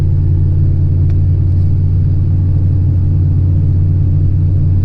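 A 2001 Dodge Ram 2500 pickup truck cruises steadily at about 30 mph, its engine and road rumble forming a loud, continuous low drone with no talking.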